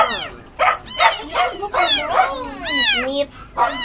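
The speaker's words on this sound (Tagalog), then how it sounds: "Ang ingay ng aso!" A dog in a family home barks and yips in a rapid series of loud, close, high-pitched outbursts that continue almost without pause.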